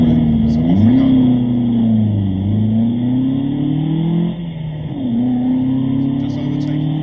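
A Sunbeam Alpine race car accelerates hard off the grid, its engine heard from inside as a loud, steady drone rising through the gears with brief dips at each shift.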